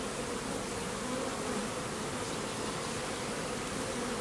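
A swarm of bees buzzes steadily and densely throughout, a constant close hum with no pauses and no voices.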